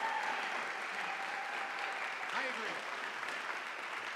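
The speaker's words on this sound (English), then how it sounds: "please, one last round of applause specifically for the most important persons on stage" An audience at a college jazz band concert claps in a steady, fairly quiet wash, with a brief spoken voice and a whistle-like cheer rising through the applause.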